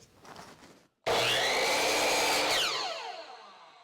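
A power saw bites through a three-inch piece of wood, a loud, harsh burst lasting under two seconds, then the blade whines down as the motor spins to a stop.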